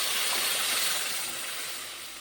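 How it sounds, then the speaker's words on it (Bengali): Water poured into a hot pot of fried rice and lentils for khichuri, setting off a loud, steady hissing sizzle that slowly fades. "এখন মা এখানে দিয়ে দেবে জল।"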